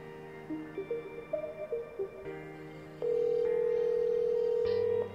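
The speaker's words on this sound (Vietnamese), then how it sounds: "Mình sẽ gọi điện này, chắc là được." A ringing tone plays on a test phone, a ROG Phone 6 or Lenovo Legion Y70, during an incoming call: soft melodic notes first, then a loud, steady sustained ring tone, clear and alone without talk.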